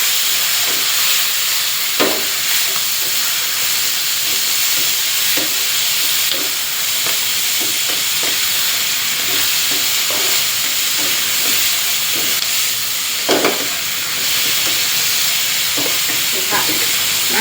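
Blanched Chinese kale being stir-fried with salted fish and red chillies in a wok gives a steady, close sizzling hiss, broken by occasional sharper flares and clinks as the greens are tossed.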